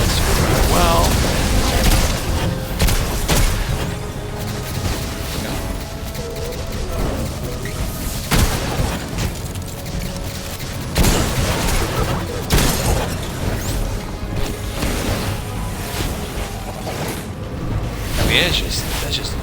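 Grenade explosions from a Solar Warlock in the Destiny video game with a Well of Radiance build. Several sharp booming blasts punch through continuous busy game sound effects.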